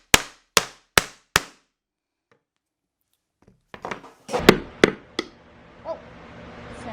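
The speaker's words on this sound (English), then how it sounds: "choke up on the hammer when I start nailing, and then slide back a little bit once I start driving the nail" Four sharp, evenly spaced hammer strikes drive a nail into a wooden piggy bank. Silence and faint shuffling follow, then louder, irregular knocks and handling noise.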